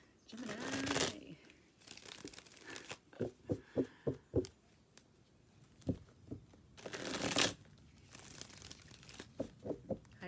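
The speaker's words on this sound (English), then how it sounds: "Let's pull you some oracle cards." Oracle cards shuffled by hand, bursts of riffling and rapid soft flicks in uneven clusters, close and fairly quiet, with a faint voice now and then.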